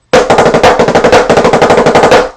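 A snare drum plays the Three Camps rudiment at full speed: fast, loud rolls of rapid, evenly spaced strokes with regular accented pulses, close and alone with no talking.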